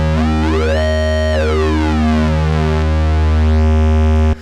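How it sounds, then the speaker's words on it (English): A Moog Matriarch with two detuned oscillators hard-synced, giving a loud, harsh, screaming sync tone whose harmonics sweep up and down before cutting off abruptly near the end. "if you detune them, you're going to get that wonderful, screaming, and very harsh sync sound"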